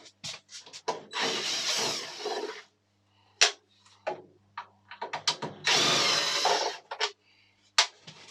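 A power drill backs screws out of a mobility scooter being taken apart, in several whirring bursts of a few seconds each, separated by short clicks and handling noises, close up and clear.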